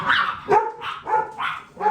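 Dogs bark nearby in four sharp, evenly spaced barks over about two seconds, clear and fairly loud with no talking.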